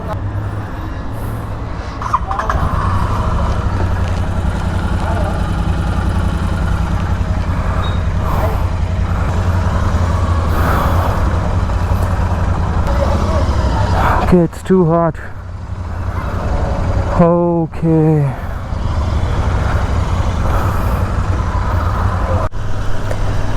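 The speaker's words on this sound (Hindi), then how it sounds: "सुनते हैं ज़रा बाइक की आवाज़" A Royal Enfield Interceptor 650 motorcycle engine idles steadily with a constant low rumble and tappet noise, broken by a couple of brief honks; a voice speaks briefly near the start.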